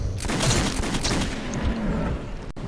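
Dense, continuous gunfire from a weapon in the shooter Metro 2033, a steady close rattle of rapid shots filling the whole stretch, ending in one sharp final crack.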